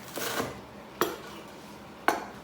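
A knife cuts through toasted frozen whole wheat bread on a plate, with three sharp clinks as the blade strikes the plate, spaced about a second apart, over soft crunching in between.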